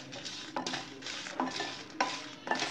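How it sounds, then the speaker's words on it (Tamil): Dried red chillies roast in a pan for a chana dal chutney, with a light background sizzle and repeated scraping stirs that come in bursts roughly every half second, close and clear with no talking. "வத்தல் வறுத்தாச்சு."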